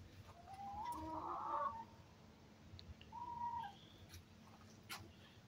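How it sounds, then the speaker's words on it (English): Six backyard chickens cluck and murmur softly in a couple of short bursts, with quiet background noise between calls. "Here we have our beauties, 6 chickens."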